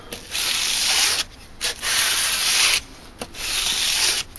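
A fine-grit sanding belt, around 240 grit, runs against a workpiece to remove machining marks, giving a steady loud hissing rasp in three long passes separated by brief pauses.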